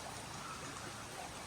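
Water drains into a holy spring pool at Gunung Kawi Tampaksiring in Bali, Indonesia, making a faint, continuous trickling rush that holds steady and unbroken throughout.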